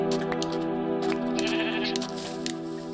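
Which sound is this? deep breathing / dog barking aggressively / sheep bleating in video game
sheep bleating in video game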